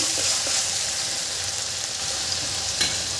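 Masala paste fries loudly in a pan, a dense, steady close-up sizzle with faint occasional stirring scrapes.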